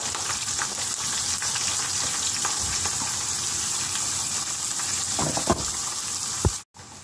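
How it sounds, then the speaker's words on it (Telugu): Curry leaves and chopped onion pieces crackle and sizzle in hot oil in a pan, a steady close frying hiss with a few sharper pops near the end. "ఆయిల్ వేడెక్కింది కదా, ఇప్పుడు రెండు కరివేపాకు రొబ్బలు వేస్తాను. తర్వాత కోసి పెట్టుకున్న ఉల్లిపాయ ముక్కలు వేస్తున్నాను."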